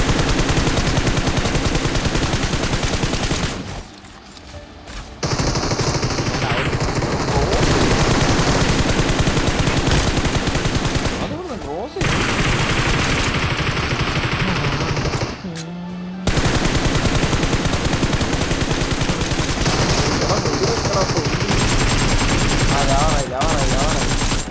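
Rapid, loud machine-gun bursts from the shooter game Helion fill nearly the whole stretch, with a few brief pauses between long volleys, while excited players shout over the firing.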